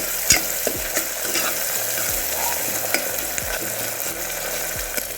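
Onions fry in a pan for masale bhat, a steady close sizzle broken by repeated scraping and clinking as a spoon stirs them at an irregular pace, with no talking.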